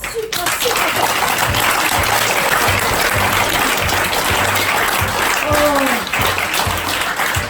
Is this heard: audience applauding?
yes